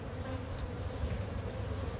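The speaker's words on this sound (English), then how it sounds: "now I got bees all over my fingers" Honey bees buzz steadily and close around a beekeeper's fingers at an open hive, a continuous droning hum with no voices.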